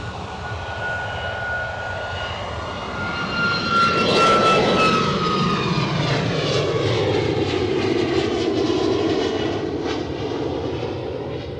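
Air France airliner departing Edinburgh Airport for Paris, a loud jet roar with a whining engine tone that swells around the middle and then slowly fades as it climbs away.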